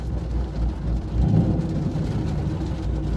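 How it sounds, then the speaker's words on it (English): Steady rain pours with a low rumble of thunder swelling in the middle, heard alone as a constant dense wash with no voices. "Dang! I got caught in the rain."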